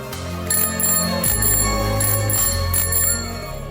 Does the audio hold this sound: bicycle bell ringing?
yes